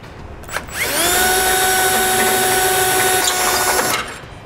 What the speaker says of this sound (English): take a 1/2 inch drill bit, we're gonna use that center hole is a template to drill a hole right through it